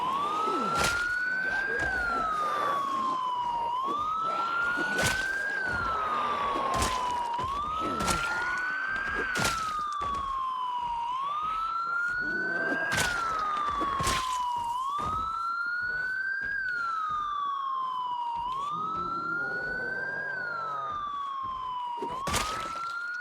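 A loud wailing siren in Project Zomboid rises and falls in a steady repeating cycle, alone and continuous, with sharp thuds and knocks breaking through it at intervals.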